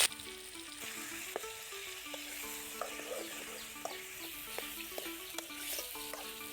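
Green chillies fry in a pan for tomato chutney, a steady close sizzle and crackle with occasional stirring clinks against the pan, no talking.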